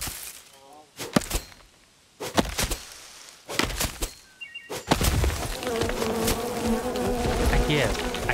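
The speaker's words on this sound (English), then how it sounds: "I have no idea which trees have the bees in them." Bees in trees in the game Len's Island, a persistent near buzzing hum that swells in the later part, broken earlier by several sharp chopping thunks.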